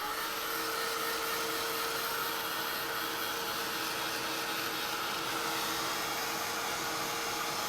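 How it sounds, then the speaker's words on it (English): A heat gun drying paint on a card blows a steady, loud, unbroken whoosh of air that runs the whole time with no talking. "now I'm going to hit this with a heat gun just to make sure I got everything dry"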